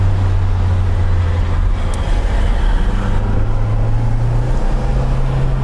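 A 1987 Dodge Daytona Shelby 'Space Ghost' takes a sharp corner under turbo boost, its engine a loud, steady drone that climbs in pitch near the end, heard from inside the car with no talking.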